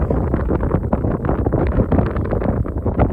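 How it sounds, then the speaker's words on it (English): Strong wind gusting across an open high mountain pass in the Sierra near Mount Whitney, heavy buffeting rumble on the microphone that rises and falls in gusts throughout, loud and close with no talking. "The wind has definitely picked up at a certain point here."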